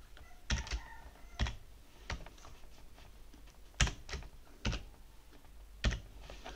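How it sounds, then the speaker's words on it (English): A computer keyboard typing a password, a few sparse isolated key clicks spaced irregularly about a second apart, quiet and close with no talking. "I'm just entering the new password."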